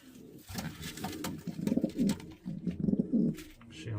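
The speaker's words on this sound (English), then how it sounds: "This fella's a lovely, lovely pigeon." Pigeon cooing, repeated soft throaty coos in a steady rhythm, close by, with faint bird chirps and rustling around them; a white grizzle pigeon.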